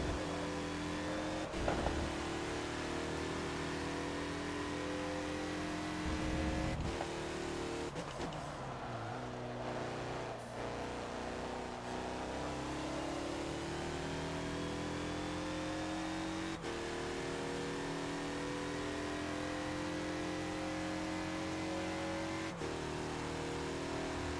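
Engines of a 2014 Mazda Lola B12/80 and rival race cars at Mugello in Forza, a steady loud high-revving drone with gear-change drops and pitch sweeps as cars pass, running continuously without talk.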